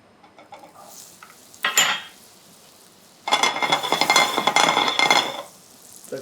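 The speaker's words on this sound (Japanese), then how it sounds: "このフライパンでソースを作ります。 はい、残りのバターを入れて" Butter for a caper sauce for skate meunière goes into a frying pan: a light clink, then a loud, sustained crackling sizzle that spreads bright and steady for a couple of seconds before easing off.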